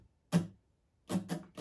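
Guitar strumming pattern played faster, with one stroke followed by a quick cluster of three strokes, close and fairly quiet, with no voices.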